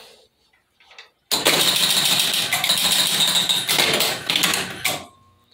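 An electromechanical Sir Elton John pinball machine cranked up and running through its cycle, with pop bumpers and flippers working: a sudden loud mechanical whir and buzz that holds steady for several seconds, then cuts off.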